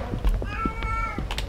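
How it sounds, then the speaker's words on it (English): A cat in a video game meows a few times in short, close, clear cries within a brief burst of game audio. "I know that there's a cat right here."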